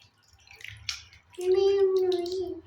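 Tap water runs steadily into a basin while a child's feet are washed at home, a low continuous flow that grows louder midway, joined by a sustained tonal whine.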